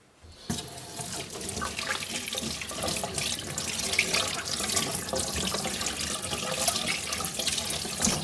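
Hot water runs from a tap in a steady, splashing stream after a short quiet start, continuous and close for several seconds.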